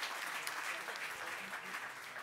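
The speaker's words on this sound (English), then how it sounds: "I want to give them applause in forehand" Seminar audience applauding the table leaders, a continuous, even patter of many hands clapping, fairly faint and distant in level, with no break for its full length.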